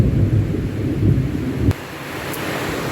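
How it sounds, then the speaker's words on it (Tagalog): Heavy rain pours down in a steady low roar with rumbling undertones, the deeper rumble easing off partway through while the downpour continues evenly. "it's raining so hard"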